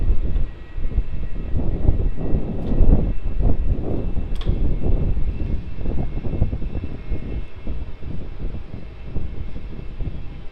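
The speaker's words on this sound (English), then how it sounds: "On final approach now, we have QF 877 arriving in from the Gold Coast. Just about to touch down." A Qantas airliner on flight QF 877 from the Gold Coast lands at Melbourne Airport, a loud continuous engine roar and rumble rising and falling across the runway.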